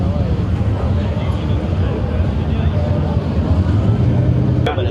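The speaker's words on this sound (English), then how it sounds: "Got a nasty cammed out K5 rolling through." A cammed Chevrolet K5 truck rolls along a city street with a deep, rough, continuous engine rumble that rises slightly toward the end, while people talk nearby.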